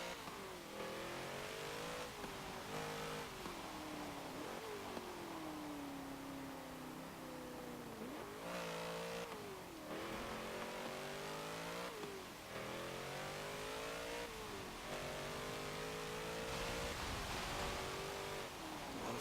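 A 2017 Ford Focus RS engine in Forza Motorsport 7, steady and fairly faint, climbing through the revs in repeated sweeps, each broken by quick gear changes, with no talk over it.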